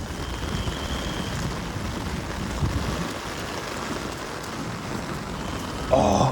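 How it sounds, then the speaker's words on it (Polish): Heavy downpour rain pours down in a dense, even hiss during flooding in southern China, holding for several seconds, ending with a brief sharper splash. "Bo ulewy."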